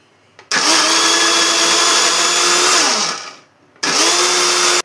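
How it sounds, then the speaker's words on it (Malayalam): A loud blender grinds tender coconut in two bursts, the first long, winding down, then starting again after a brief pause; close and dominant. "ഇനി ഇത് രണ്ടും കൂടി നന്നായി ഒന്ന് ബ്ലെൻഡ് ചെയ്തെടുക്കാം."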